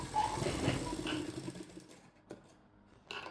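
A sewing machine stitches a katori blouse in quick mechanical bursts, rattling patter that pauses and restarts, fairly faint and close with no talking.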